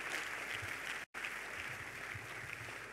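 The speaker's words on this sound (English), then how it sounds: "If they are for Jesus, please clap and clap better." Congregation at a Tuesday chapel service clapping in praise to receive the Vice Chancellor, a steady, fairly distant wash of hand claps that cuts out briefly and resumes.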